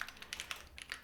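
Rapid taps on a computer keyboard, a short burst of about a dozen light clicks close to the mic, alone without talk.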